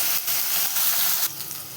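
Capsicum curry with turmeric frying in a pan over a medium flame, a close, loud sizzle that swells and dips with brief stirring scrapes and bursts of hiss.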